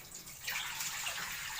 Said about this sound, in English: we drain off the water.